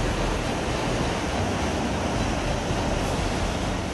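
A fast-flowing mountain river in rain-swollen flood surges past a broken footbridge, a dense, continuous roar of rushing water holding steady throughout with no voices.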